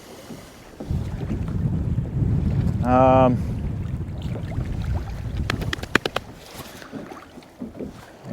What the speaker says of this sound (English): The waves are starting to come a little bit harder.